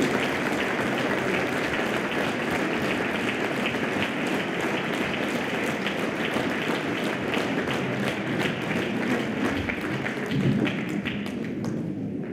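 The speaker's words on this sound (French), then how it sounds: "Je vous remercie de l'applaudir." Sustained audience applause fills a town hall during a municipal New Year's greetings ceremony in Aunes, a dense steady patter of many hands clapping throughout, fairly loud, with a few louder thuds near the end.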